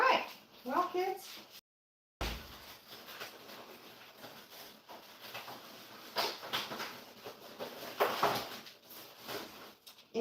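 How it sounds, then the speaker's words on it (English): Golden retrievers and Australian shepherds whine intermittently in the background of a home kitchen during a family dinner, the thin whimpers mixed with household clatter and people talking. "If you hear whining in the background"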